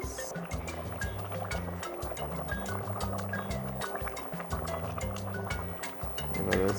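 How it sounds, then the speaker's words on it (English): Dumplings slipping into a simmering pot of Trini beef soup with tender potatoes, carrots and pumpkin, a steady bubbling liquid sound with soft splashes and clicks over a low background rumble. "we can now add our dumplings"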